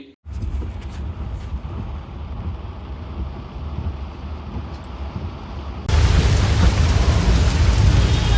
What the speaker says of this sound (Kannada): ಆ ಮಳೆಯ ದೃಶ್ಯಾವಳಿಗಳು ಮತ್ತು ನೀರು ಹರಿದಂತಹ ಎಲ್ಲ ದೃಶ್ಯಗಳನ್ನ ನೋಡೋಣ ಬನ್ನಿ